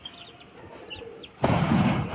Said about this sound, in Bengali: এই দুটো নীলা পায়রা আছে।